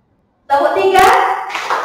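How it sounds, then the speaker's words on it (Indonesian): A group of adults in a workshop session claps hands together in a short rhythmic pattern on cue, several quick claps close and loud, blending into a dense burst of applause-like sound. "Tepuk 3."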